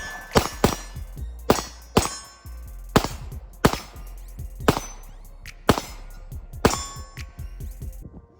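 Handgun shots ring out from a Glock 19 and a Smith & Wesson SD 2.0 in a head-to-head test, about ten sharp, loud reports fired at an uneven, fairly quick pace.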